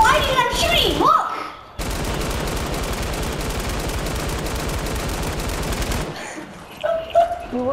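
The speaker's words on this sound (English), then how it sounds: "Look at it, I'm gliding and I'm shooting, look!" Rapid automatic gunfire rings out in the Fortnite video game during gliding, a dense sustained burst lasting several seconds, with game sounds and voices before and after.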